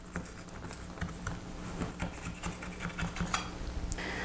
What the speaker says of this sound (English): Just take a regular butter knife, run it around the edge of the pan